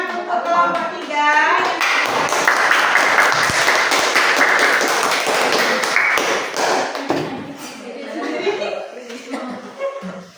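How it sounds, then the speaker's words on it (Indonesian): A classroom of students claps for a presenting group in a religious education lesson, a burst of mixed clapping and taps with chuckles and voices around it, fading as talk resumes. "Ayo beri tepuk tangan untuk kelompok 3."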